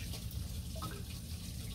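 Water runs from a tap as a steady, faint hiss and wash under a low background hum, with a few small splashy blips partway through.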